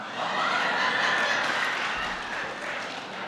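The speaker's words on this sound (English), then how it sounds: "What in the hell are you clapping at?" Audience at a recovery speakers meeting clapping and chuckling together, a short rolling patter of applause mixed with light laughter in a hall.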